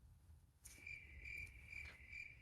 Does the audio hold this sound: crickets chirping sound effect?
yes